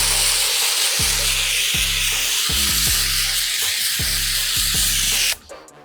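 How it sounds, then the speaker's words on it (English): Cleaner is sprayed onto a dirt bike in a steady run of loud, close, hissing trigger-sprayer bursts, about one per second, ending abruptly. "we'll swap back over to the cleaner now and just apply a layer of cleaner"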